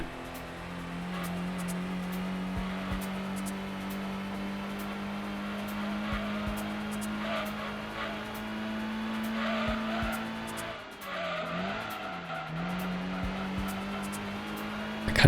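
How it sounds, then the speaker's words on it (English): Car tires scrubbing and squealing in the Gran Turismo 2 racing game, a steady high-pitched whine under a constant engine drone that wavers and dips briefly near the end before resuming, with no talking. "you'll get sounds where the tire is scrubbing rather than sliding"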